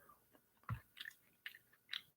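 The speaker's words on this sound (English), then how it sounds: "I'm finished munching on some blueberries here" Someone chewing blueberries close to the mic, with several soft crunchy bites and wet munches spread over a couple of seconds and no talk.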